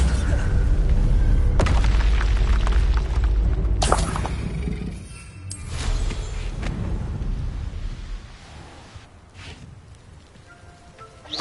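In the Hogwarts Legacy video game, a Bombarda spell blast lands as a deep, heavy boom with a long rumbling tail, followed by a second, weaker impact and fading debris sounds.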